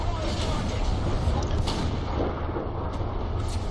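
Cannon fire and battle rumble from a Chi-He tank in War Thunder, a continuous low heavy roar with a few sharper blasts standing out.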